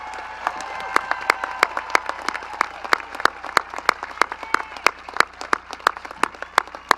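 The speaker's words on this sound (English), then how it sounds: "give these students a well-deserved round of applause" An audience gives a round of applause for scholarship students at a school graduation ceremony, with sharp distinct claps over a continuous crowd clapping bed and faint murmur throughout.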